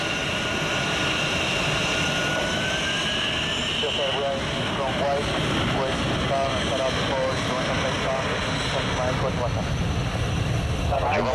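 An aircraft engine starting up at an airport, a loud steady roar with a rising whine, heard close and continuous over background radio chatter.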